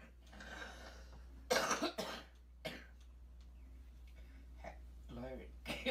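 A few harsh, close coughs break out amid a speaking voice, over a constant low hum.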